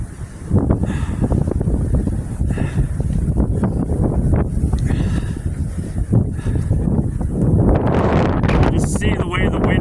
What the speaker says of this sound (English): See the way the wind blows across there.